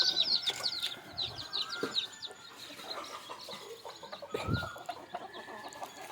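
Country chickens cluck nearby on a morning farm, with a run of quick high clucks at the start, then scattered softer clucks and faint rustling.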